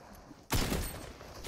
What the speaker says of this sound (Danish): Der var nogle andre skud nedefra.